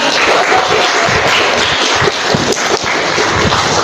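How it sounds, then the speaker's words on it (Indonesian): Dense, sustained applause from an audience after a presentation at a university lecture event, steady broadband clapping filling the whole stretch at close range with no talk over it. "boleh tepuk tangan dulu"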